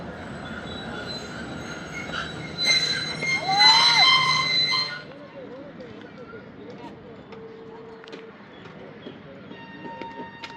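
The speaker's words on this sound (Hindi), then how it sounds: "2 मिनट क़याम के बाद ट्रेन लियाकतपुर से हो चुकी है रवाना" A Khyber Mail train pulls out of Liaquatpur station on a hot day, with a rising swell of rail noise and a brief wheel squeal before it settles into a quieter low rumble, with voices around.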